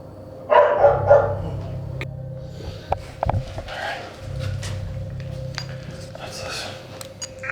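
Dogs barking outdoors around a house, a few short bursts of barks near the start and again midway, with a steady hum and faint background voices.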